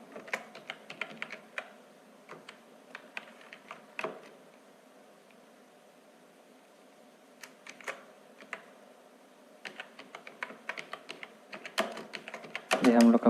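Bursts of keyboard typing as a college admission number is entered into a Microsoft Word biodata document, clustered clicks separated by a quiet pause, close-miked with light background hum and no talk.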